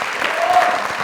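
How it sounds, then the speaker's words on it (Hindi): A studio audience at a comedy talk show breaks into a brief, dense burst of clapping that stays steady and fairly loud for about a second. "अरे तालियां यार,"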